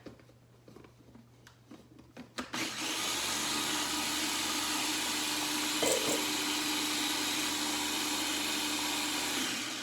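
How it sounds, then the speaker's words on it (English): A few clicks and knocks, then a blender motor roars up and runs loud and steady, whirring continuously until the end. "now that the blender has chopped it up quite a bit"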